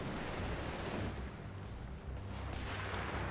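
A Marder tank destroyer firing in Company of Heroes 3, dense overlapping gunfire and blasts from a busy battle, continuous and fairly distant, with no voice over it.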